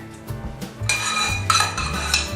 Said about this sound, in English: Mix that in with your strawberries. Just want to mix that up real good.